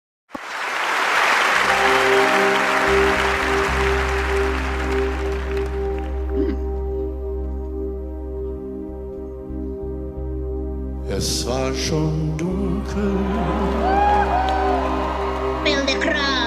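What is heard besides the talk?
concert audience applauding and cheering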